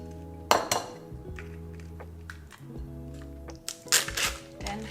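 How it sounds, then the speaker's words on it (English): Two eggs cracked into a bowl with mashed banana for protein pancakes: sharp clinks and taps of shell against the bowl rim in quick bursts over a quiet kitchen hum, close and fairly soft, with no talk. "Next we're gonna add 2 eggs"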